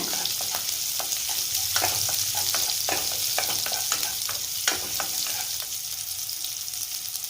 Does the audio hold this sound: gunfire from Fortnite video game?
no